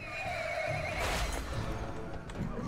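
A horse in World of Warcraft gives a loud, drawn-out neigh and whinny, shrill and rising before trailing off, with light hoof clip-clops below it and no talk over it.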